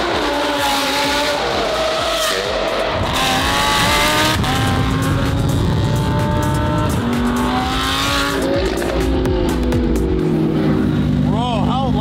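A loud Lamborghini sports car engine revs hard and roars up and down in pitch, very close, with people shouting over it.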